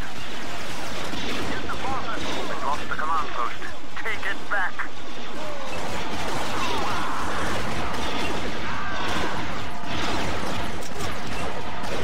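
Blaster fire in the Star Wars Battlefront 2 video game, a modded Star Wars Legends Reboot match, as a rifle fires repeated triple bursts amid loud, dense battle noise and other shots.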